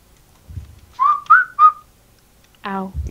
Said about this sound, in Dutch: Niet fluiten, ja.